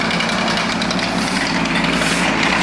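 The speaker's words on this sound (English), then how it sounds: "Little 1-ton machine, great bit of machine that is." A small 1-ton tracked machine, likely a mini excavator, runs on a house-building site, tracking across the ground with a steady, loud broadband engine drone and rumbling clatter throughout, with no talk.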